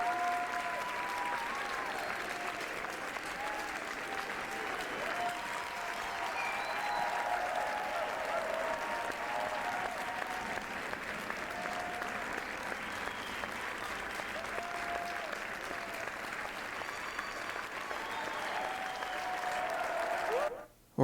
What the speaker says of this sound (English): So give a round of applause to Distance.